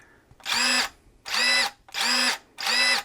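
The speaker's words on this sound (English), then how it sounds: "So I'm going to pull the trigger twice to get it started." A Yofidra cordless electric pruning shear motor whirs in four short, even bursts with brief pauses between them, close and fairly loud, a high whining buzz with no talking.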